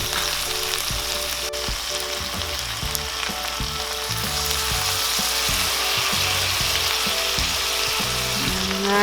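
Beef innards, including heart, cook in a pan with vinegar just added, giving a loud, constant sizzling bubble and hiss up close, with low irregular knocking underneath.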